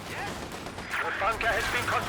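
Mortar and gunfire in Company of Heroes 2 on the Lanzerath map in a 4v4 match, a dense wash of distant crackling shots and rumbling impacts with a voice talking over it.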